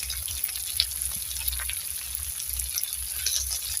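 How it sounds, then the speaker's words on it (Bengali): Spice masala with turmeric and chilli powder sizzles and fries in a pan for a Bengali gugli (snail) curry, a steady close crackle with soft stirring scrapes and no voices. "এবার মশলাটা ভালো করে কষিয়ে নেব।"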